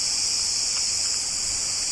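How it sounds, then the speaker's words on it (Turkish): Cicadas and crickets in a forest produce a dense, continuous high-pitched buzzing drone, steady and fairly loud throughout, with no voices. "Gördüğünüz gibi Ağustos böcekleri, cırcır böcekleri"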